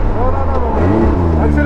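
Buggy engine accelerating on a road, a loud close motor drone with rising and shifting harmonic tones, with people talking over it.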